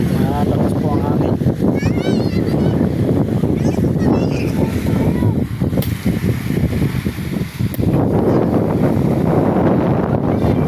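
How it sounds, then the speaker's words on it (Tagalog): Strong beach wind at Villa del Prado, Sariaya, Quezon roars steadily into the microphone throughout, with a voice talking underneath and a constant buffeting rumble. "Malakas po ang hangin."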